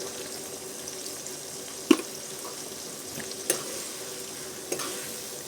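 Tomatoes cooking in a pan for pav bhaji give a steady low sizzle, broken by a few sharp scraping stirs of the spoon against the pan, close and fairly quiet.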